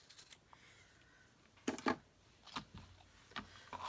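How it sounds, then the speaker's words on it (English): Scissors snip through a length of Stampin' Up! ribbon in a few quick, close, quiet cuts, with faint handling noise between them and no talking. "So I'm just going to cut off a little bit."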